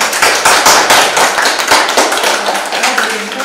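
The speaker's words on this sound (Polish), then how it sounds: "dla nas wszystkich brawa" Audience applause at an award ceremony for a photo contest in Poland: dense, continuous clapping from a room of people, loud and close, with sharp individual claps standing out throughout and no talking over it.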